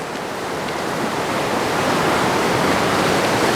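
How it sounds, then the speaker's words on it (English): Mountain meltwater rushes down a valley as a loud, steady, broadband roar of torrential flow heard up close and alone, swelling slightly as it goes. "So all the water is coming down from the mountain tops."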